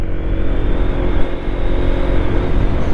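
A Honda ADV 160 scooter being ridden hard on a rough, damaged road gives a loud, steady engine drone mixed with rushing wind noise, continuous and close with no talking.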